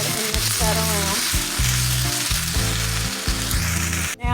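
Tomato soup being stirred into browned beef in a skillet for homemade beefaroni, a strong continuous sizzle with repeated scraping strokes of a spoon against the pan, no talking.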